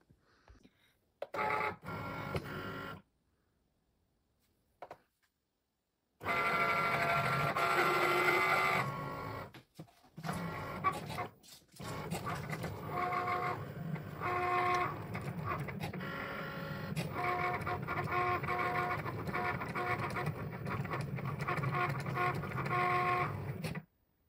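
A Cricut machine cuts carbon vinyl static film on its mat with a fine-point blade. Its carriage whirs and buzzes steadily, broken by short pauses and brief stops, close and moderately loud with no talk.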